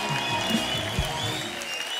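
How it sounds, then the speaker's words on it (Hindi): Loud, continuous applause rises from a studio audience on a comedy talk show as guests are welcomed, a dense wash of clapping held at an even level throughout. "जोरदार तालियां हो जाए हमारे मेहमानों के लिए"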